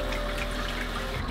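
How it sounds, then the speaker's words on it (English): Hot sparge water runs over a grain bed while a chocolate stout is home brewed, making a constant close trickling wash of liquid. "gonna start running our hot liquor over top of our grain bed now"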